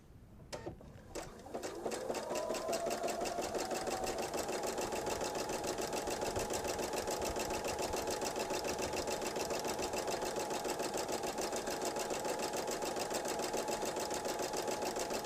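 A sewing machine stitching through stacked pieces of fabric for a bench pillow, starting up after a couple of quick clicks and then running at a steady, fast, continuous whir close by for the rest of the time.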